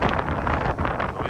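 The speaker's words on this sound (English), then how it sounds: "It's like windy, snowing, nasty." Strong wind buffeting the microphone in a steady, rough roar with gusty swells during a snowstorm, no voices.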